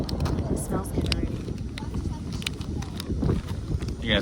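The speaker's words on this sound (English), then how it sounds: "It's crazy windy." Strong wind buffets the microphone with a steady low rumble throughout, with some scattered handling noises.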